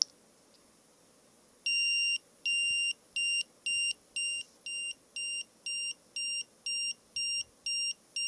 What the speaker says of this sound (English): so just listen for the beeps